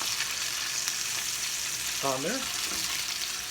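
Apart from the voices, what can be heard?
chicken cutlets frying in a pan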